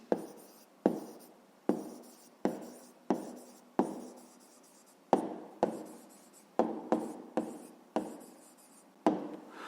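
Pen or chalk writing down an answer to a math exercise, a series of crisp taps and scratching strokes in irregular bursts, close and clear with no talking.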